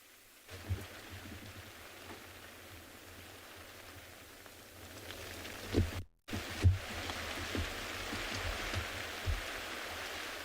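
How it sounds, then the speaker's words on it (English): Steady rain falls on the roof and canvas covers of a safari vehicle stopped in the bush during a sunrise drive at Tswalu, a continuous patter with a few louder drip thuds and a brief dropout midway. "It is raining quite a bit now."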